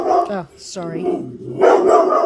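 A dog barks and yips in a few close, sharp bursts indoors, with a person briefly speaking between them.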